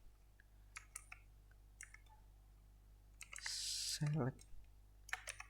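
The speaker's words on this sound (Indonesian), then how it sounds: "Kita ketikkan" Typing on a computer keyboard while entering a MySQL query in phpMyAdmin: scattered close key clicks in short bursts, then a brief louder rustle, with a person speaking briefly.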